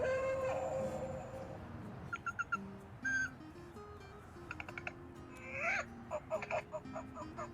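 An electronic owl decoy in a garden gives several short hoots and chirps, interrupted by clicks and rustling handling noises, with quiet background hum between the calls.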